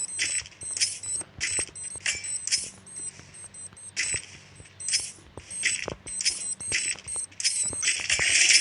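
Bomb timer in the Free Fire video game counting down with a rapid, regular series of sharp electronic beeps in quick bursts, loud and close, with faint low tones underneath.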